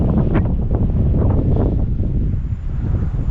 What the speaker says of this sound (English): it's so windy. It's actually blowing it around.